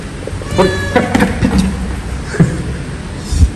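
A cat meows several times in short, close cries, with a faint voice and some background noise between them.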